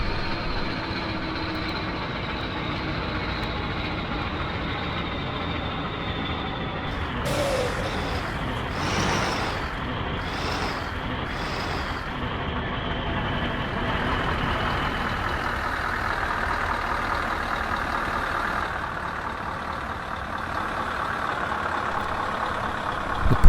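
Heavy haulage truck hauling a 78-tonne oversize load in Euro Truck Simulator 2, with a steady engine drone throughout, a cluster of short air-brake hisses near the middle, and no talk.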